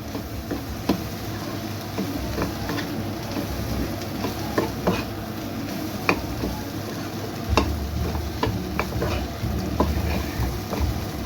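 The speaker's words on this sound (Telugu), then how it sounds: "బాగా ఫ్రై అయింది." Egg sizzling and frying in a pan with a steady crackle, punctuated by light clicks and stirring taps; close and continuous, with no talk.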